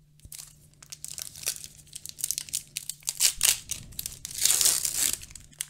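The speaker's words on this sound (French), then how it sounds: "Décidément, je les déchire tous, les boosters." Trading card booster packs for a French card game are torn open, foil wrappers crinkling and ripping in close, loud bursts that build toward the end, with no talking.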